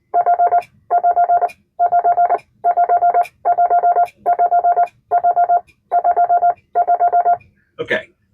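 A McElroy semi-automatic bug key fitted with a pendulum extender sends Morse code as a loud, steady tone in nine evenly spaced bursts of rapid dits, followed by a brief rustle.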